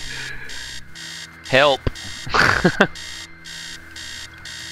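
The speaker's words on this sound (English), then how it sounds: "Oh, somehow the alarm stops." An alarm clock in the horror text adventure game Stories Untold rings in a steady repeating pulsed electronic beep, loud and close, while a voice briefly calls out and speaks over it.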